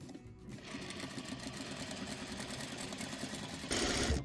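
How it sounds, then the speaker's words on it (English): A sewing machine runs steadily, stitching quilt pieces corner to corner, with a fast, even mechanical whir that holds for several seconds and grows slightly louder near the end, with no talking. "Now I'm pretty comfortable stitching just from corner to corner."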